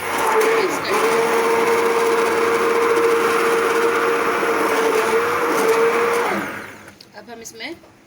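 A kitchen blender whirs loudly and steadily, mixing a strawberry milkshake with milk and yogurt, a high motor whine running for about six seconds before cutting off into a few soft knocks.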